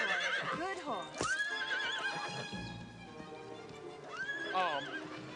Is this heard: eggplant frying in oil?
no